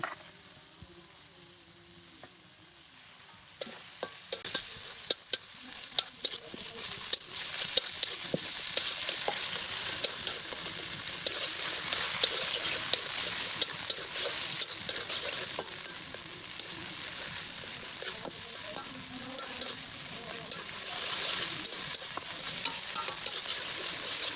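Chopped tomatoes fry with spices including turmeric for prawn pulao, a continuous close sizzle that swells and eases over a long stretch while a spatula scrapes and taps the pan in frequent irregular strokes.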